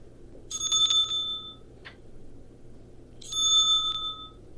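Bright metallic bell ring in a show setting, struck twice with a lingering ring each time and a small click between, fairly close and loud against a quiet background.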